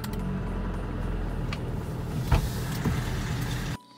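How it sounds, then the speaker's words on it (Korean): A diesel car's engine cranks steadily on a second cold-weather start attempt, a low continuous whirring with a couple of brief louder bumps near the end before it cuts off abruptly. "두 번째 시도에서는 빠르게 꺼지며 시동을 시도합니다"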